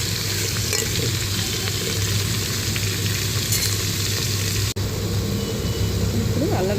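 Cut okra pieces sizzle steadily in hot oil with salt while being stirred, a constant close frying hiss with brief scraping sounds.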